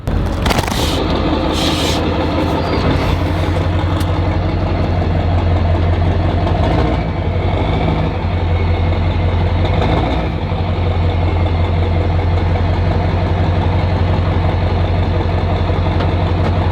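A 7.3L diesel truck engine idles steadily with a deep, low rumble and a constant mechanical clatter, close and loud throughout, with a brief revving swell near the start and no talk.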